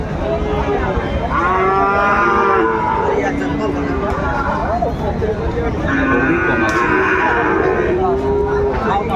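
Several bulls moo loudly and repeatedly at a cattle market in Chittagong, overlapping one another amid a busy crowd murmur, with a brief spoken remark in between.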